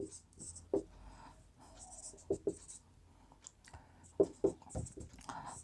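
Pen or chalk strokes during a class 10 maths lesson on linear equations, with short, scratchy bursts of writing separated by quieter gaps.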